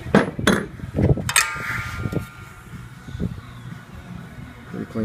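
A homemade sheet metal brake bends steel sheet, giving a few sharp metallic clanks and knocks early on, followed by quieter handling noise and shuffling.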